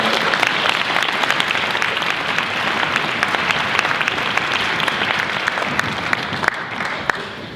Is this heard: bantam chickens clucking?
no